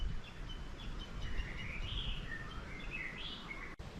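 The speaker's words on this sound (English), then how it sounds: "The birds have a lot to say here. In the forest, you hear them a lot" Birds calling in a tall Hawaiian forest on Maui or Kauai, a few clear whistled and warbling phrases at moderate distance over a steady rustling ambient background, no talk.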